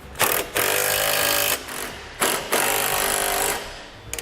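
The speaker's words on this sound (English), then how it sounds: "we can go ahead and tighten everything down. We're going to use a 17mm socket" Trailer hitch bolts on a 2014 Kia are run down with a 17mm socket on a power tool, four loud, close bursts of rapid buzzing rattle separated by short pauses.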